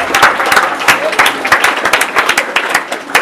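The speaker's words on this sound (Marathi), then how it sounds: "टाळ्या." A crowd at a school quiz competition for students in grades five to seven applauds a correct answer, with dense, lively clapping that runs steadily throughout, close and loud.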